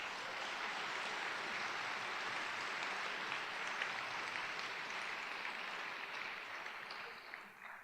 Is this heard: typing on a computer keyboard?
no